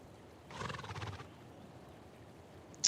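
A single horse whinnies in a video game at a racetrack, a fairly close, rising neigh lasting under a second. Quiet ambience follows, broken only by a brief high click near the end.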